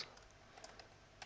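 Quick, light keystrokes tap on a computer keyboard, faint and close, in an irregular run of soft clicks with no voice.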